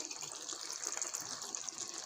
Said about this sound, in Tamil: அது ஒரு கப் அளவுக்கு தண்ணி சேர்த்துக்கிறேன்.